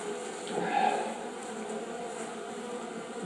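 Russian honey bees buzzing during an indoor winter hive inspection, a steady close hum that swells briefly near the start and then settles into a constant drone.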